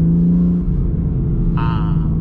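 A BMW M2 Competition with an Akrapovic exhaust rumbles loudly up close, holding a deep steady engine drone before a brief higher-pitched rev rises near the end, with no talking over it.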